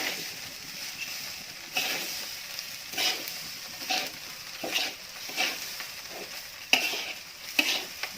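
Glutinous rice frying in a pan for Iban kuih chang, with a steady sizzle and repeated stirring scrapes about every second, close and moderately loud.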